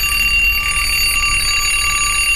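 An alarm clock rings loudly and continuously, a shrill, unbroken electronic ringing with no voices.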